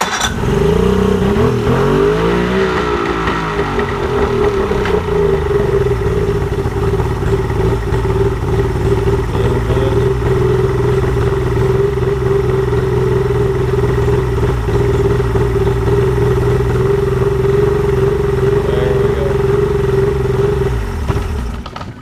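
A Mercury 50hp outboard motor runs loud and close. It revs up hard at the start, then holds a steady, throaty high-idle drone with a strong tonal hum for the rest of the time, with no talking over it.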